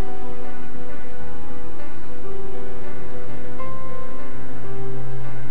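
Boiled young jackfruit frying with salt in a pan, a dense continuous sizzle and crackle like steady rain, loud and close with no voices.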